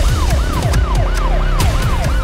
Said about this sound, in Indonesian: Suara sirene memecah malam.